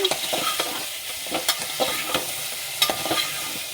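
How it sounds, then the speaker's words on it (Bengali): Chicken frying in butter with garlic while being stirred in a pan, a steady close sizzle with intermittent scraping knocks of the utensil throughout. "নাড়াচাড়া করে ভেজে নিতে হবে।"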